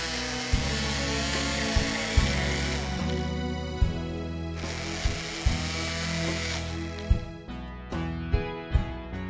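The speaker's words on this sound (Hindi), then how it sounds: "हम इसे ब्लेंड करेंगे ताकि एक" A kitchen blender whirs as it purées banana and dates into a mocktail, its motor running in loud bursts that start and stop repeatedly with short clunks between pulses, and no one speaks.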